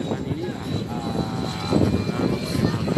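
An Indonesian Air Force Puma helicopter passes overhead with a loud, continuous rumbling drone while people talk nearby.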